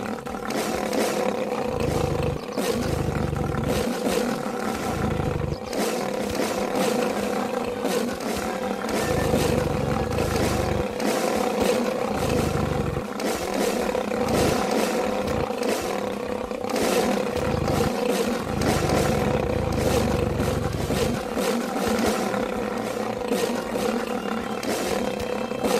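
Lions snarl and roar while fighting in the Wild Savannah game, a dense, continuous stream of heavy growls and roars that stays loud and close throughout, with no voices over it.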